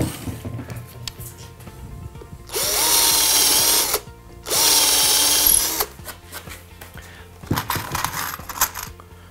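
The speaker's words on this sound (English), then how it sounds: "Drill a couple of pilot holes." A power drill whirs in two steady bursts of about a second and a half each, drilling pilot holes in pallet wood for a workbench, close by, with quiet handling noises between and after.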